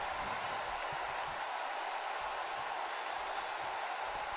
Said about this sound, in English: Crowd on its feet here in Atlantic City.